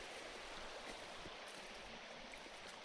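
Stream of water flowing through woodland, a steady broadband rushing and trickling that stays even and continuous throughout, fairly close with no voices.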